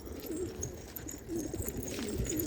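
Pigeon cooing repeats in a loft of trained flock pigeons, soft throaty coos recurring every second or so over a steady low rumble of wing and body movement nearby.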